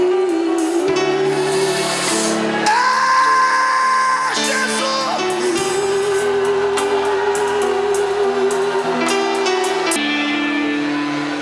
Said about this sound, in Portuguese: Até você que não gosta de dar barulhos tem que gritar agora.